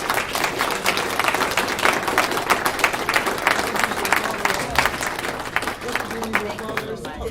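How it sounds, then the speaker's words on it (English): An audience at a vintage race car festival applauds six 1950s-era race car drivers, with sustained, dense crowd clapping that holds steady throughout and a few voices mixed into the applause. "give these 6 people right up here a big, big round of applause for coming"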